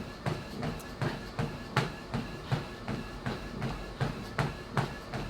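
NordicTrack 2450 treadmill in use for a run, with regular rhythmic footfall thumps on the belt about twice a second over a steady motor hum, close by.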